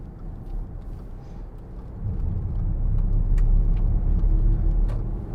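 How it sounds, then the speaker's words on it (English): A 2015 Audi Q5 2.0 TDI S line diesel accelerates up a bypass, its low engine drone and road rumble building steadily from inside the cabin, loud and continuous with no voices. "We'll give it some gas just going up the bypass."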